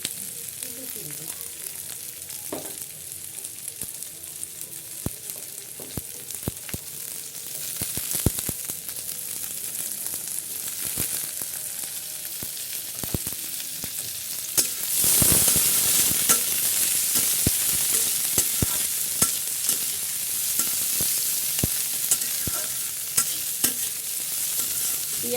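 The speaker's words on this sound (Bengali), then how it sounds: "আর এই ভাজার ভিতরে আমি দিয়ে দেবো কিছু চিংড়ি।" Shrimp frying in oil in a village kitchen, a steady close sizzle with scattered stirring clicks and scrapes, swelling louder midway as more goes into the pan.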